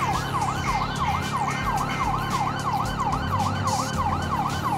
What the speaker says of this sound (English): Aren't you supposed to pull over when you hear police sirens?